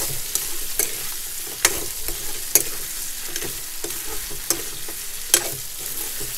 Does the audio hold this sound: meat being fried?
yes